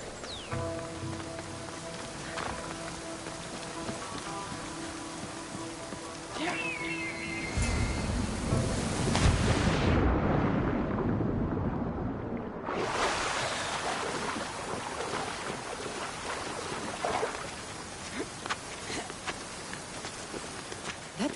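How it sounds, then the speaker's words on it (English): Waterfall in the Greek setting of Assassin's Creed Odyssey, a steady broadband rush of falling water that swells louder midway, continuous and without speech. "This is the waterfall."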